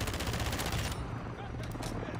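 Rapid automatic fire from an FR Avancer rifle in Modern Warfare 2, a dense, loud burst of shots for about a second that then drops to quieter scattered gunfire and ambient noise.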